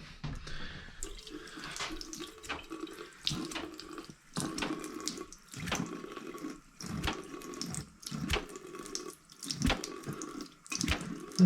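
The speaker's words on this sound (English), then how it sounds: "Let's go for a little splash test." Water pours and splashes over a winter cycling jacket in repeated bursts, close and moderately loud, with pauses between each pour.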